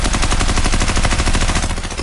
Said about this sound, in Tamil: அப்ப நம்ம ஆல்ஃபர்ட் என்ன பண்றதுன்னே தெரியாம டக்குனு அந்த மினிகனை ஃபயர் பண்ணிடுறாரு